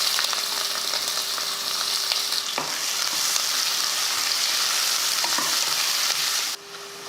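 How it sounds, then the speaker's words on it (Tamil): Onions with cloves, star anise and a bay leaf fry in oil in a pressure cooker, giving a dense, continuous close sizzle with occasional stirring knocks before the sound drops away near the end. "வெங்காயம் பாருங்கள் நல்லா வதங்கிருச்சு."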